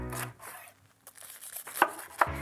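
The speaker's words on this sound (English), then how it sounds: "sharp knife, and we're just going to cut it into that classic katsu style, which is into strips" Sharp knife slicing fried eggplant katsu into strips on a cutting board, a few quiet crunchy cuts with two distinct sharper chops near the end.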